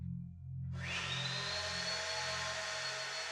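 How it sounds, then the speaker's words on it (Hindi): A vacuum cleaner switches on late at night after a brief quiet moment and then runs on with a steady whine and a rising pitch. "वैक्यूम चला रहे हैं, वो भी इतनी देर रात को।"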